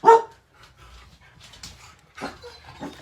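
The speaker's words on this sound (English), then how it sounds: "There goes the dogs." Dogs in a home bark and pant in a few short bursts, one sharp bark first, then softer scattered yips and breathing noises, fairly close and with no talking.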